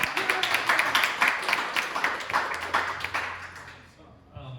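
Audience applause for Jonathan at a community panel event, dense clapping from the room that fades toward the end, with faint voices underneath.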